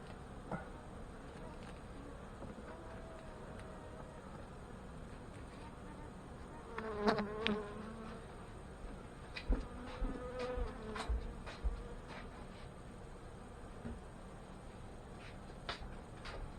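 Honey bees buzz around an open hive while colonies are being combined, a soft continuous drone with individual bees whining past close by in brief louder passes.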